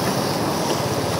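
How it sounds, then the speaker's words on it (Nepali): Strong wind buffets a rider during a rainstorm in Itahari, Nepal. It makes a loud, unbroken roar throughout with no voices. "इटहरीमा त पुरै हावा हुन्डरी चलिरहेछ"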